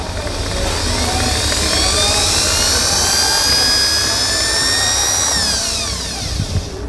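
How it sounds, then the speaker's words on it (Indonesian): A Dong Cheng electric drill with a bit fitted soft-starts at its lowest speed, a high-pitched motor whine rising and holding steady, then winding down near the end, with a low rumbling hum underneath. "Ini tadi sudah saya pasang mata bor. Kita lihat yang speed yang paling rendah dulu ya."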